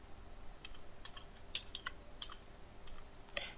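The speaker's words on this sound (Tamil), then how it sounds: "நான் வந்து ஒரு மெசேஜ் மாதிரி நான் டைப் பண்ண போகிறேன்" Someone types a message on a computer keyboard, producing scattered light key clicks in uneven bursts that sit faintly over a steady background hiss.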